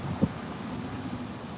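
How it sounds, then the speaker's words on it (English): A strong gust of wind buffets the microphone outdoors, a steady broadband rush with one brief louder thump early on, continuing evenly throughout. "Now the wind really picks up."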